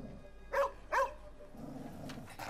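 A dog in the video game Rise of the Ronin gives two quick, fairly quiet barks about half a second apart, followed by a low, muffled rumble.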